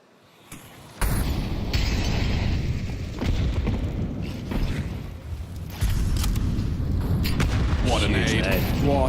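A grenade blast in a Counter-Strike match at a major esports tournament, a sudden loud boom followed by sustained rumbling and debris noise, with a second heavy burst later amid game effects.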